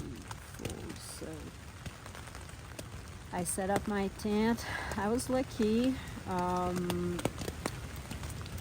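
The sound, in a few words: rain falling on a tent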